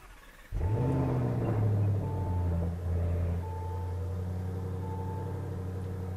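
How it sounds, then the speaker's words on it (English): A Lamborghini Urus with a valved exhaust cold-starts: a sudden loud catch and flare of revs, then the engine drops back to a steady, muted idle drone with the valves closed. "I'll let you guys hear it with a cold start."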